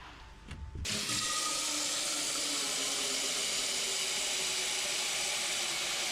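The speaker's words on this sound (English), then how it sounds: "I'm going to fill a pan up with water and clean it out" A tap is opened to fill a pan with water for cleaning a 1930s wooden dresser; after a brief quiet start the water gushes on and runs as a steady, loud splashing stream.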